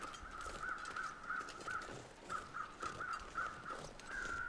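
Crows in The Long Dark, circling over a carcass, give a run of repeated harsh caws in a steady rhythm, moderately distant over a soft background hush, ending in one longer drawn-out call.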